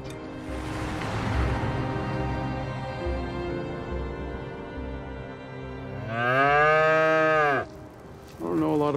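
Cows mooing: a long, loud, close moo with a rising and falling pitch, followed by the start of a second call, over a low rumbling background that fades between the calls.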